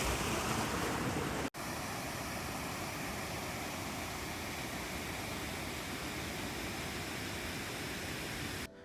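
Fall Creek Falls in Idaho roars as a steady, loud broadband rush of falling water, continuous throughout with one brief dropout, and no voices.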